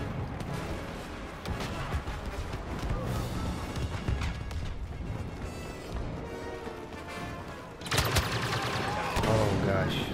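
Blaster fire in the Star Wars Battlefront video game, a dense, loud barrage of rapid shots layered over busy battle noise, swelling even louder toward the end.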